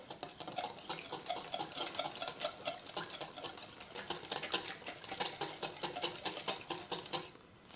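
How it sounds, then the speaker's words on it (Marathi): Eggs and mashed bananas whisked together in a bowl for banana cake, a fast, steady run of rapid clicking beats from the whisk striking the bowl, close and fairly quiet, with no voices. "आता ही अंडी आणि केळी आपण छान मिक्स करून घ्यायचे आहेत"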